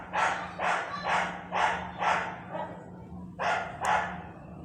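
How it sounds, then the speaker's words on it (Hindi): Street dogs bark outside in a run of about eight loud, evenly spaced barks, a short pause falling before the last two, over a low steady background hum. "यहाँ पे गली के कुत्ते डिस्टर्ब कर देते हैं"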